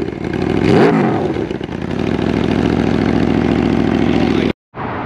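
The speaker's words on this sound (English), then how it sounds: "It was a bad idea parking it out here and revving it." Loud superbike engine revving close by, a quick rev swell early on and then a steady high-RPM roar around 5,000 RPM that cuts out briefly near the end before resuming, with no talking.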